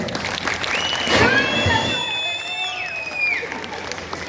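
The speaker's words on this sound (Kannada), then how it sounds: "ನಿಮ್ಮ ಜೋರಾದ ಚಪ್ಪಾಳೆ" An audience claps at a comedy stage show during a Ganesh festival in Tumakuru. The brief burst of applause swells and fades, mixed with crowd voices and rising whistle-like calls.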